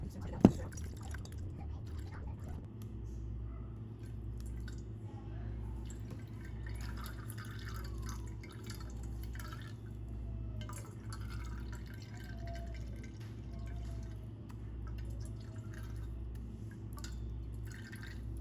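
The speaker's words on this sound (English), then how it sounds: "we kind of let it sit so it drains all the juice out" Juice dripping steadily from strained pulp as it drains, a soft continuous trickle of small drops in a quiet kitchen, with a low hum underneath and a brief knock near the start.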